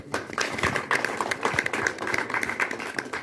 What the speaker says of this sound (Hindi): इसलिए एक बारी अपने लिए जोरदार ताली